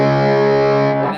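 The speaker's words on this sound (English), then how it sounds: "some cool low, mid, low overdrive tones in the low setting" Electric guitar played through a Caroline Guitar Co. Shigeharu fuzz pedal on its low setting, giving a sustained, harmonically rich low-mid overdriven chord that rings loudly, then decays and cuts off after about a second.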